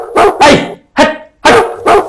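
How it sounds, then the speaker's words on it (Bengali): A dog barks five times in quick, loud bursts close by, with short gaps between each bark and no other sound around them. "সুমন তার কুকুরটা নিয়ে আসছে তো।"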